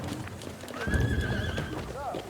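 A horse gives a clear, high whinny that rises and wavers, with hoof clops and low bustle beneath, while voices murmur faintly in the background.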